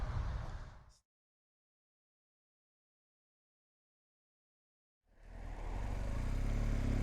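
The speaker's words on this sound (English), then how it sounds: "As we pull away in safety, making sure we're safe and responsible on our BMW GS" A BMW GS motorcycle pulls away with a close, loud engine rumble for about a second, then drops out completely, and the engine comes back strong and steady as the bike rolls off.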